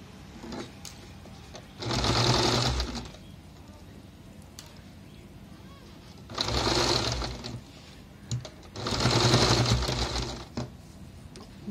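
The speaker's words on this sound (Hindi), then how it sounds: "अब जो है हम इसको यहाँ से सिलेंगे" Sewing machine stitching a cushion with a zip, three separate bursts of rapid mechanical clatter, each lasting about a second or two, with quiet gaps between them.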